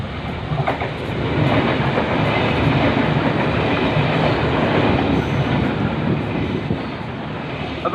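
A train rumbles loudly through a station on Melbourne's Werribee line, a heavy continuous roar with rhythmic clacking of wheels building and holding close by.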